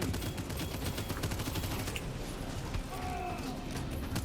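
Rapid bursts of enemy gunfire in the co-op FPS video game Abyssus, a dense continuous barrage of game shots filling the whole stretch at steady loudness.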